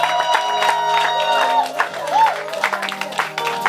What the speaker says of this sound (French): Maintenant, acclamons pour la gloire du Saint-Jésus-Christ.